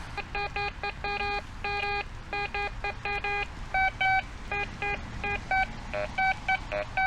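Quest X5 metal detector sounding over a nickel coin: repeated electronic two-tone beeps in quick bursts, close and clear, with a faint rumble of handling underneath and no talk.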